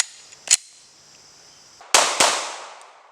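Sharp, loud pistol shots from a Glock 19 Gen 6 at a shooting range: one crack, then a pause and two more in quick succession, each with a short ringing tail.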